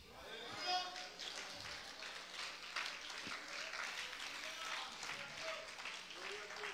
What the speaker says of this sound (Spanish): Ahí no hay aplauso para Cristo.